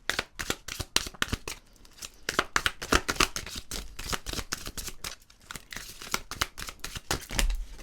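Tarot cards being shuffled and handled, with a steady run of crisp riffling, flicking and slapping card sounds, close and fairly loud throughout with no talking.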